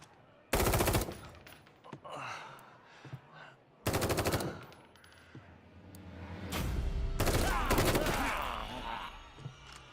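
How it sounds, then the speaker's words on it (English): Gunfire in the horror video game The Evil Within 2, with loud sustained bursts of automatic weapon fire in three separate volleys, plus a groaning creature and movement in between. "Keep shooting until they're dead or we run out of ammo."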